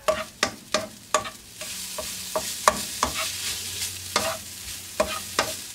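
Tofu fries in cooking oil as a utensil stirs it, sharp regular scraping and tapping strokes against the pan over a low continuous sizzle.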